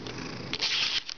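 A pet cat makes a short sound close by, a purring rumble giving way to a brief, breathy meow-like cry, with no one talking.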